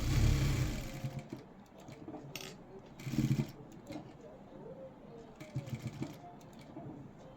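A sewing machine stitches a blouse in short, close whirring runs, the strongest at the start and a few more bursts later, separated by quieter pauses.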